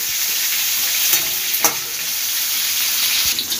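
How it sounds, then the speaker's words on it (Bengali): Prawns fry steadily in hot oil for a Bengali plantain-flower and prawn dish, a loud continuous sizzle with a few sharp spits and pops, no voices. "চিংড়ি মাছগুলো ভেজে নেব আগে।"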